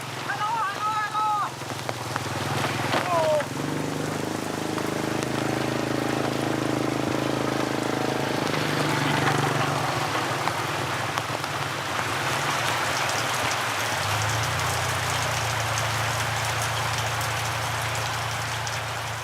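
Heavy monsoon rain pours steadily over a mountain village, a dense continuous hiss filling the scene, with a low engine-like hum and a few brief voices near the start.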